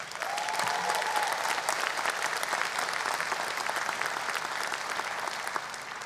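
Applause fills a hall during a speech at a community college, a steady wash of many hands clapping at even loudness throughout, with a brief voice rising near the start.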